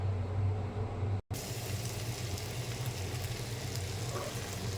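Food sizzles in hot oil in a pan with a steady, even hiss that cuts out for a moment midway before continuing.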